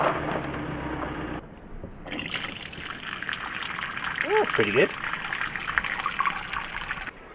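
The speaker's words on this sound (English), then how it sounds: "Now we're going to see if we can actually drain it." Grey water gushes from the underslung grey water tank of a Transit van conversion, a steady close rush of flowing water that runs throughout, with people talking briefly over it.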